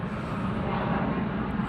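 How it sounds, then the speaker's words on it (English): Airplanes fly in and out near an airport, giving a steady broad roar of engine noise overhead that stays level throughout with no break. "all these airplanes flying in and out"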